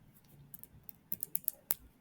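Computer keyboard keys tap out a spreadsheet formula in a quiet room, with scattered light clicks that quicken into a close run of crisp strokes and one louder final keypress.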